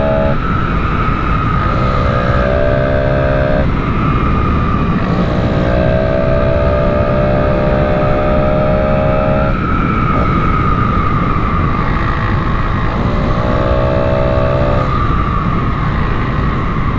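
A loud, continuous motorcycle engine drone with heavy wind rush on a morning ride, its pitch shifting as gears change every few seconds, steady and close throughout.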